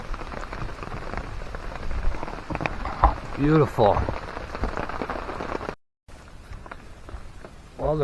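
Rain pattering steadily on a camping tarp during a thunderstorm, a dense close patter with a brief dropout, while a person speaks a few words.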